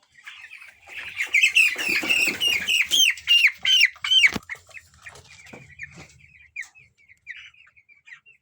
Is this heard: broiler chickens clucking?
yes